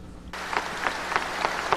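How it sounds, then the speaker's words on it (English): A crowd applauds for Pope John Paul II after his death, sustained clapping starting abruptly after a brief quiet moment and continuing steadily, with a few louder claps standing out from the dense mass. "they clapped"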